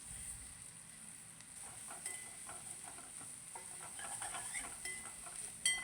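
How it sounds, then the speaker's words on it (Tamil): Onions and curry leaves sauté in a pan with a soft, steady sizzle, while a spoon stirs and clinks against the metal now and then. No one speaks. "இப்போ நம்ம கருவேப்பிலை கொஞ்சம் சேர்த்து வதக்கி விட்டுடலாம்."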